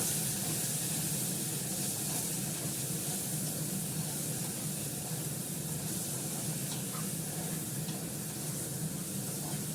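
Small onion cooking in a little oil on a summer stovetop, a steady soft sizzle and hiss running evenly and close throughout, with no talk.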